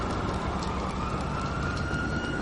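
A steady electronic police siren wails continuously in Grand Theft Auto V on PS3, loud and close, with a dense noisy engine-like backdrop and no talking.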